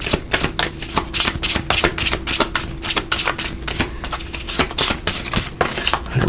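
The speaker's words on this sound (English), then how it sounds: "Let me just shuffle these a little more here." Tarot cards are shuffled by hand in quick, crisp riffling bursts, a close, rhythmic run of papery clicks and flutters with no talking.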